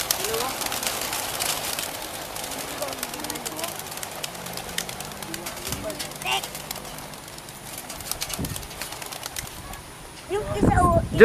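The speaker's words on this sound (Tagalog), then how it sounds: "Ito mga ibon, oh." Racing pigeons released at a training race in Atimonan flutter and coo in a soft, busy layer, with a loud burst of wing flapping near the end and people talking nearby.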